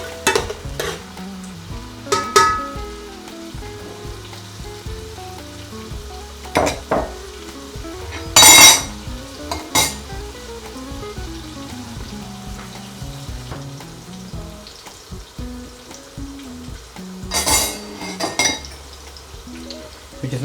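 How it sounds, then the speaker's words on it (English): Chopped onion sizzles and fries in hot oil in a pan for a chicken keema and pea curry, with a steady crackle broken by several louder bursts of scraping as a spoon stirs it. "We'll give that a nice mix in the oil. We're going to let that onion brown very slightly next."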